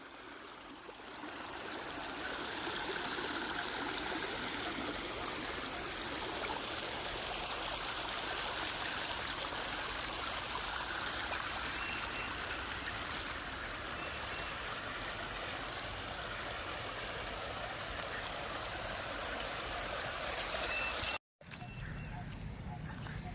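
Rainwater rushes steadily in a small stream from rain days earlier, a continuous broadband flow close by, with a brief cut near the end.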